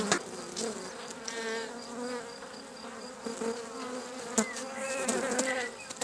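Honeybees buzz steadily around hives at an apiary. The drone is dense and continuous, with individual bees whining close by as they pass, over a constant hum from the colony.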